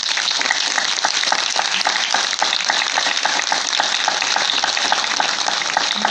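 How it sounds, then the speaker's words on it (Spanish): Dense, steady applause fills the whole stretch, many hands clapping together in a continuous crackling roar with no voices on top. "para quien pido un fuerte aplauso"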